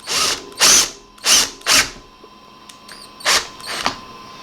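Drill boring a pilot hole through the plastic casing of a Philips DreamStation CPAP machine, heard as several short, loud bursts of whirring and grinding separated by quiet pauses, with no speech.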